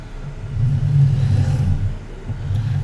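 A tractor engine idles and revs in the farming video game Farming Simulator 19, a low steady rumble that swells briefly, close and alone without talk.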